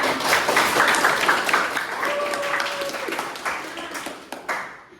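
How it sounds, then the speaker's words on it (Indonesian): Classroom applause for a student presentation group: a burst of many children's hands clapping together, close and lively, thinning out toward the end with voices mixed in. "kita kasih aplaus untuk teman kita kelompok 3"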